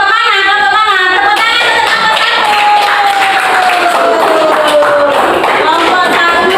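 Classroom applause for a winning student group in an Indonesian teacher-training lesson, steady clapping mixed with a sustained tone and background voices throughout.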